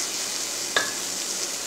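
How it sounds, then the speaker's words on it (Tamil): Chopped raw mango, garlic and curry leaves fry in a pan while a spoon scrapes and stirs them, a steady soft sizzle broken by one sharp clink of metal partway through. "எல்லாத்தையும் நல்லா mix பண்ணி விடுங்க"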